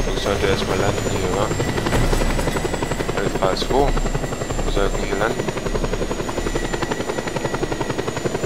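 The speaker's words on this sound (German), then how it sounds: "Ein Armee-Hubschrauber müsste in Kürze eintreffen." An army helicopter's rotor thrums steadily and loudly throughout in the video game Just Cause 2, with a voice talking over the engine noise.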